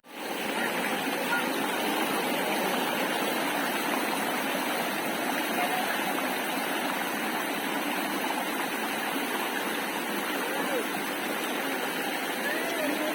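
Rushing water from a waterfall beside an open-air restaurant at Villa Escudero in the Philippines, a steady broadband roar that stays continuous and fairly loud throughout, with no talk over it.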